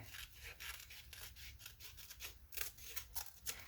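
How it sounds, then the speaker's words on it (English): Scissors snipping through a junk journal paper page, a quick series of close, crisp cuts and rubbing strokes in an uneven rhythm, quiet and alone. "And I need to cut off this part as well."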